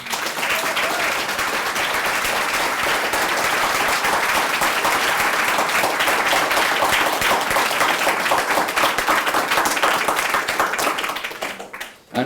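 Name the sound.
audience applause for the 2013 graduates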